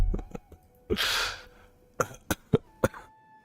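A sick adult coughs several times, starting with a few short coughs, then a long breathy throat-clearing burst, then a series of separate sharp coughs, close and loud, with no speech.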